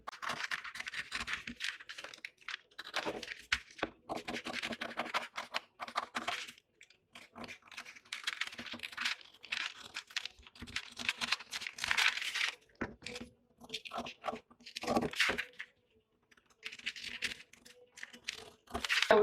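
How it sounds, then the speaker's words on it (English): Scissors snip and crinkle through a paper sewing pattern for a bustier top with a yoke, a steady run of close crisp rustles and crunches with short pauses between cuts, no talking. "I'm now going to cut it so that you see how entry starts."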